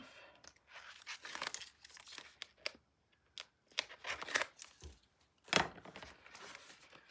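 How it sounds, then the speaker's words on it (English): Adhesive tape peeled off paper while building a Graphic 45 Seas the Day 9 x 9 mini album: several short, close ripping and crinkling bursts, fairly quiet, separated by brief pauses. "Pull this tape off."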